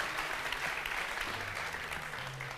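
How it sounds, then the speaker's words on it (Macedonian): Applause for a big band at a live televised song competition semifinal, a dense, sustained clapping from a large audience, steady and fairly loud throughout. "аплауз за Биг Бендот"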